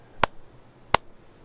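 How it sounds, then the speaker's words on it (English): Two sharp, crisp slaps about three-quarters of a second apart, like hands meeting in a high five, over a quiet background. "I think that's the sound of a high five."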